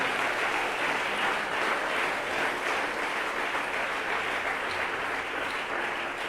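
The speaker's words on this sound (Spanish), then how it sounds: "Denle ese aplauso a Dios porque Él está aquí." A church congregation applauds during a worship service, steady dense clapping that fills the space evenly and continues without a break.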